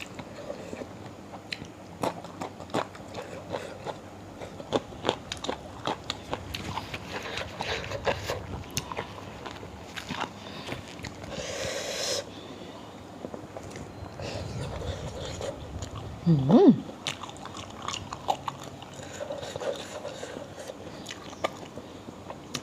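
Someone eating very spicy Thai papaya salad (som tam), with soft, irregular biting and chewing noises close to the mic throughout, under light background sounds and brief voices.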